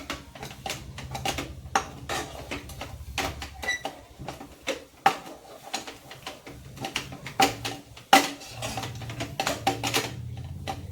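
Makhana barfi mixture is stirred in a pan, giving a steady run of quick scraping and tapping clicks with an irregular rhythm, close and moderately loud, and no talking.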